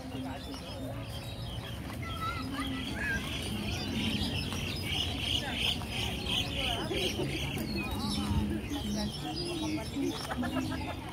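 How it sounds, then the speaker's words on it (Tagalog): Many birds call at Inspiration Lake in Hong Kong: a steady, dense chorus of chirps, tweets and coos runs throughout, with people talking quietly beneath it. "Daming ibon ah."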